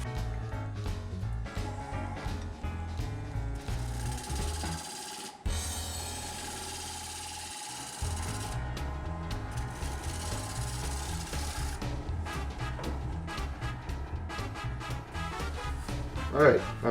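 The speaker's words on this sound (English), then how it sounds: "I'm going to use the same rotary sanding technique that I used on the other side up to here." A chokecherry wood winged bowl is rotary sanded down to 320 grit, the steady rasping, whirring rub running continuously at close range with brief pauses, mixed with music.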